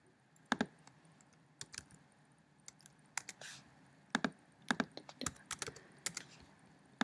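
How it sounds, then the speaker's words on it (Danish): A computer keyboard is typed on in short irregular bursts of crisp clicks, close and fairly quiet, with brief pauses between groups of keystrokes and no talking. "vil jeg starte med at skrive Anne med en Antiqua skrifttype"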